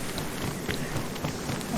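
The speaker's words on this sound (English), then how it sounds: "Let's get in out of the storm." Steady heavy rain pours down in a video game storm, a dense constant wash with faint rumbles of thunder beneath, loud and continuous with no talk.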